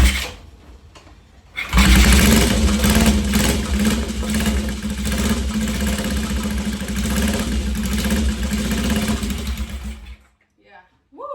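A Honda CL72 Scrambler motorcycle engine, smoking heavily and spitting gas, fires up after a quiet start and runs loud and close with a steady, rattling, sewing-machine-like chatter for several seconds before cutting off.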